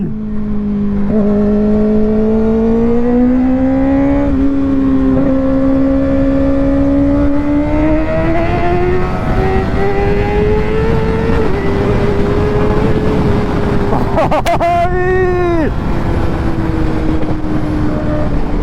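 A Kawasaki Ninja ZX6R sports bike engine screams loud and close for the whole stretch, its pitch climbing steadily through the gears with a sharp rev spike and a brief drop near the end, no voices over it.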